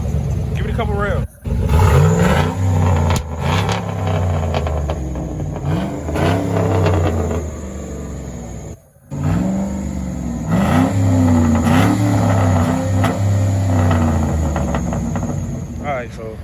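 A Chevy Silverado with a 4.8 LS V8 and straight pipe exhaust revs loudly and repeatedly, each blip rising then falling back to a rough, deep idle, with brief gaps and people talking over it.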